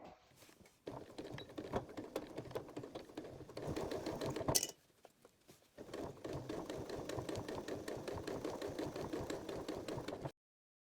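A sewing machine stitches bias tape onto fabric about an eighth of an inch from the folded edge, running in two steady bursts with a rapid mechanical patter, a brief pause between them, quiet and close with no talk.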